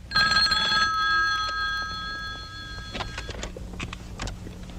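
An indoor telephone bell rings with an incoming call, a bright trilling ring that sounds loudly at first and then fades, followed by scattered clicks and handling noises.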